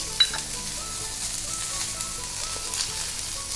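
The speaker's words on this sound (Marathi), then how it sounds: "हा कांदा देखील आपण छान असा परतून घेऊयात" Steady crackling sizzle of chopped onion frying in a hot pan with a spoon of oil, continuous and close, with a few sharper pops and a scrape of stirring.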